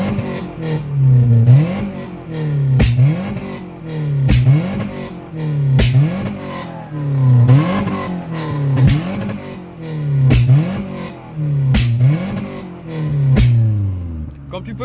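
A Peugeot 306 running an Omex ECU is revved repeatedly, each blip followed by sharp exhaust pops and bangs, about seven loud cycles in a regular rhythm, close by.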